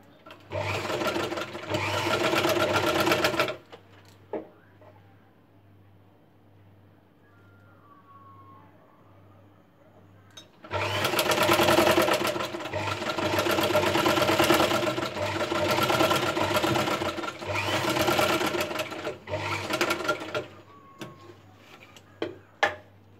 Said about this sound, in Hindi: इसको इस प्रकार ध्यान से इसे सील दीजिए